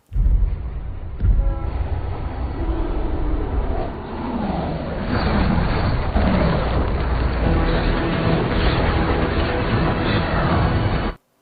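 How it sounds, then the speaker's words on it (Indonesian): A loud, steady mechanical roar of a speeding subway train, dense and continuous throughout with rumbling low end and shifting tones, no pauses. "kereta api bawah tanah yang sedang melaju di sana"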